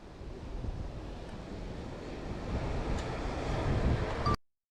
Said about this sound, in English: it's getting really windy